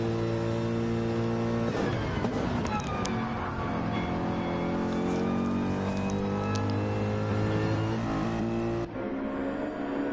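Race car engines roar and rev in a PS4 racing game as cars battle on a mountain straight, a dense, loud, continuous drone with rising and falling pitch as the cars accelerate, with no speech over it.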